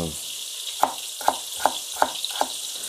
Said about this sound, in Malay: dah buat nipis-nipis sekejap lah kita goreng